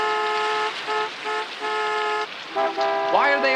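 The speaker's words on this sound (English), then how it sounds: "Why are they all honking?" Car horns honk in traffic, several overlapping in long and short blasts, loud and close, with a rising tonal blare near the end.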